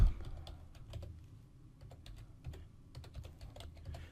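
Someone types VBA code on a computer keyboard, producing a quick, uneven run of close, crisp key clicks for a few seconds with no voices.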